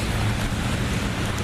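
Steady rain falls across an outdoor car lot, a dense, even hiss of drops on pavement and parked cars, constant and fairly loud with a low rumbling undertone throughout.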